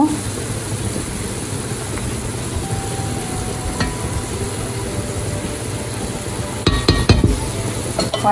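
Chomchom sweets are turned over in a pot of simmering syrup, giving a steady low bubbling hiss with a brief cluster of spoon-against-pot clinks near the end.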